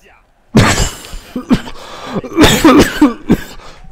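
A man coughs in a harsh, loud fit of several bursts close to the microphone during a FIFA 17 session, with throat clearing between the coughs.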